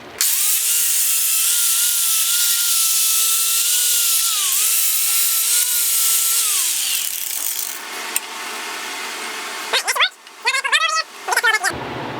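Angle grinder cutting a bevel into a metal front-end part of a 1930 Ford Model A, a loud steady whine that winds down after several seconds, followed by brief talk.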